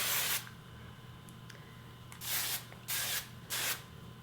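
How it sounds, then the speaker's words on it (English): Ion Workable Shine Hairspray hisses at the hair roots in a close burst, then three more short aerosol spritzes follow with brief gaps, each a crisp airy hiss in an otherwise quiet room. "spray at my roots"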